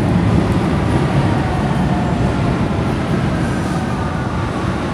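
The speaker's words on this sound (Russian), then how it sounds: "Метро в Вене." A steady, rumbling train roar with broadband rattle and low hum, continuous and close, like riding inside a moving metro car on the Vienna U-Bahn in Austria.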